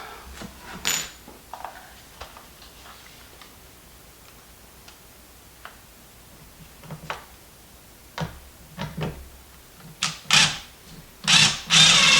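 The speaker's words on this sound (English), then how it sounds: "put some screws in this" A power drill drives screws into a kitchen island cabinet in short, separate bursts with quiet gaps and small clicks between them, growing louder and more frequent toward the end.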